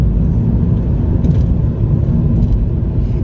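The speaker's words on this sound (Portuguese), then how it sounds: "Eu vou meter aqui no modo Sport, vou aqui puxar um bocadinho pelo carro." A BMW 218 Active Tourer accelerating in Sport mode, heard as a loud, steady low engine rumble with broadband road noise throughout and no talking.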